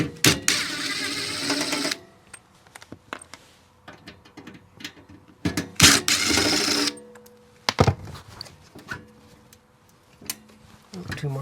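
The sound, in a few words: removing screws from an RV panel cover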